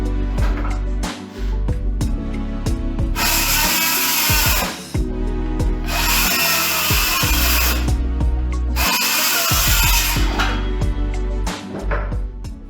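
A Bosch circular saw cuts in repeated loud bursts, its high whine rising sharply during each pass, with bangs and clatter between them as the saw is forced fast enough to overload and cut out.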